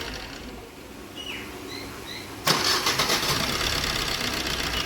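A car engine cranks and fires after about two and a half seconds of quiet, then settles into a steady, slightly uneven idle following a timing chain and camshaft repair. Faint bird chirps are audible before it starts.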